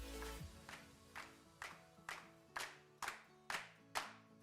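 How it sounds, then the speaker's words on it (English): A clap sample programmed in Logic Pro for a song remake hits about nine times in a steady half-second beat, each sharp clap louder than the last, over sustained synth tones. "So eventually the clap will come in"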